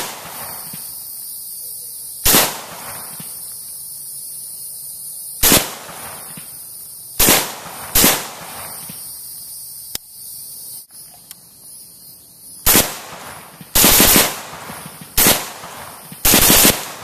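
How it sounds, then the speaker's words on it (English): Gunshots from a Huntertown Arms Kestrel 762 short-barreled rifle, fired outdoors. Loud, sharp reports come singly and in quick pairs at irregular intervals, with a burst of several rapid shots near the end. "it's still loud, but that's what you get with a short-barreled rifle."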